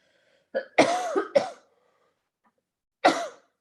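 A woman coughs in a quiet room, a cluster of three quick harsh coughs followed after a pause by one more single cough, close and clear with silence between.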